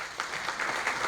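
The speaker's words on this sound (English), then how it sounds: "Please clap for them." Brief burst of audience applause at a political campaign rally, a steady wash of many hands clapping at moderate volume with no voices on top.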